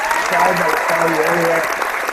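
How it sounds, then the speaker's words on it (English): Audience applause at a talk about building patient retention, a dense, steady wash of clapping heard close, with a voice speaking over it. "Thank you for the applause there, Dr. Zaino."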